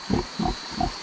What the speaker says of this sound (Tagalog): Baboy talaga eh.